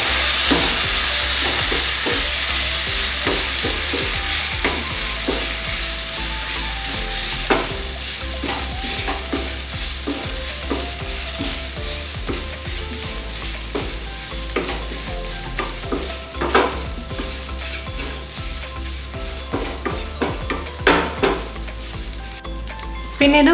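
Chicken spring roll filling with soy sauce is stirred in a sizzling pan, a spatula scraping and clinking against the metal in an uneven rhythm over a constant, close frying hiss.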